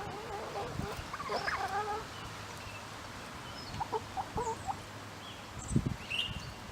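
Hens clucking softly in a backyard flock with a turkey named Gobblish nearby, a few short bird calls scattered across the stretch over a low steady background, faint and intermittent.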